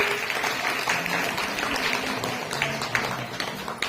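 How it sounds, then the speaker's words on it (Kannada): An audience claps at a welcome ceremony for guests at a women's empowerment event, a dense and steady round of applause that carries on through the whole stretch. "ಒಂದ್ಸಲ ಎಲ್ಲರೂ ಜೋರಾಗಿ ಚಪ್ಪಾಳೆ ಹಾಕ್ರಿ."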